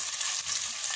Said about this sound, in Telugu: అల్లం వెల్లుల్లి పేస్ట్, పచ్చి వాసన పోయేంత వరకు ఫ్రై చేద్దాం